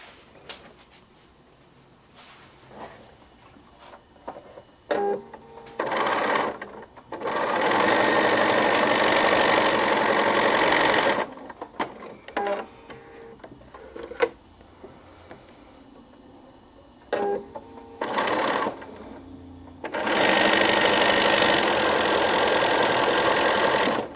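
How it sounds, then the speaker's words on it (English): Sewing machine stitching along marked lines on quilt pieces for half square triangles, running in several loud sustained bursts separated by quieter pauses with handling noise. "I'm going to sew on these lines, cut down the middle, and then press them open"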